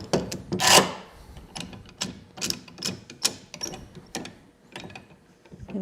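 A clamp ratchets tight on the curved leg of a wooden Adirondack rocking chair, giving a series of sharp, close clicks and creaks at an uneven rhythm.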